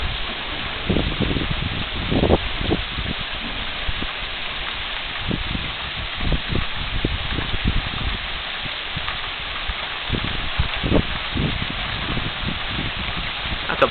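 Rain falls outdoors in a backyard near a plum tree, a steady dense hiss with scattered irregular patters and drips on leaves and surfaces, moderately loud and continuous throughout.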